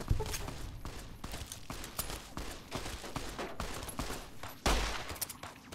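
Gunfire in the video game Fallout: New Vegas, a rapid, dense string of sharp shots cracking one after another for several seconds, with a heavier burst near the end and no talking.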